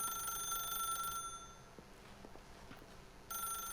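A telephone rings in The Stanley Parable video game, a bright electronic ring that stops briefly and then starts again, heard alone with faint footsteps in between.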